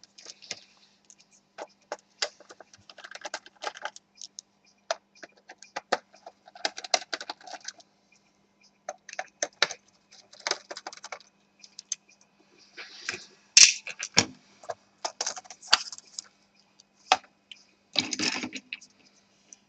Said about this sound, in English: Now the keyboard is held by 4 screws,